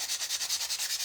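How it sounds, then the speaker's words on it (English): Paper edges glued onto a wooden craft kit piece for decoupage are sanded by hand. About nine quick, even, scratchy strokes run back and forth close to the microphone, with no other sound. "I'm sanding around the edges. I'm also sanding right across the top of that paper just to kind of try to feather it"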